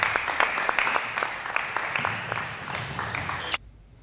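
People clap to cheer players on, a crowd's dense applause of scattered sharp claps at moderate loudness with talk mixed in, cutting off abruptly near the end.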